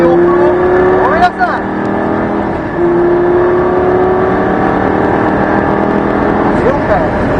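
A Lamborghini Gallardo on the Nogaro race track, its engine droning loud and close as it accelerates hard, revs climbing with quick drops at each gear shift, a steady roaring V10 tone throughout.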